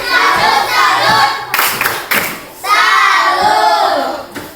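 A class of fourth-grade primary schoolchildren in a maths lesson claps together in a patterned salute cheer, bursts of hand claps and shouts rising and pausing in short rhythmic groups.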